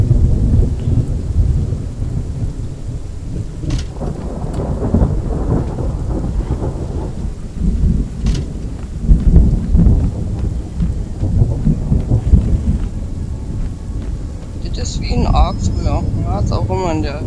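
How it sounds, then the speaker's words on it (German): Rain and rolling thunder fill the western survival video game Outlaws of the Old West, a continuous storm rumble with steady rain hiss, while someone talks over it throughout. "jetzt ist die Frage, regnet es hier auch rein?"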